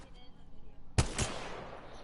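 Two sharp gunshots in a PS4 game ring out close together, loud and near, followed by a decaying echo over faint background noise.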